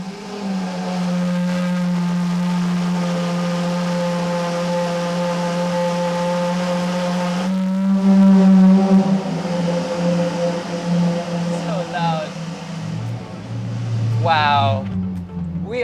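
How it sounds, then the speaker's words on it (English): Lamborghini Aventador SVJ V12 engine after a cold start, holding a loud, steady high idle with a strong low drone throughout and a brief rise in intensity midway, while people talk over it. "we are back in the Lamborghini SVJ, and that was a really loud cold start"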